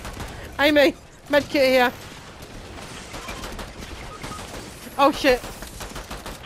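Gunfire in the Fortnite video game rattles as a steady, dense background clatter throughout, with excited voices talking over it in short bursts.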